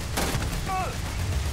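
Gunfire in the sci-fi game Starfield: a short burst of shots against a steady noisy background, with a brief whistling whine after them.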